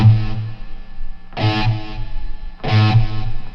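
An EVH Wolfgang Special electric guitar, made in Japan, struck three times with distortion and delay and with the noise suppressor switched off. Each loud, sustained distorted note rings out over a steady hiss and hum that persists between hits.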